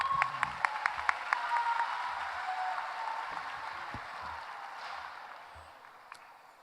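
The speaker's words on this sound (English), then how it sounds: "Round of applause." Crowd applause at the Edison High School class of 2024 commencement, a few sharp near claps over steady clapping from a large audience that slowly fades out.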